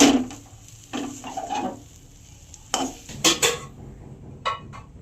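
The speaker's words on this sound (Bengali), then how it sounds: "এবারে দিয়ে দেবো ফ্রেশ নারকেল কোড়া এবার ভালো করে একটু মিশিয়ে নেব" Fresh grated coconut worked into a sticky palm juice batter, a few short scraping and clattering strokes of a utensil against the bowl with quiet pauses between them, and no voices.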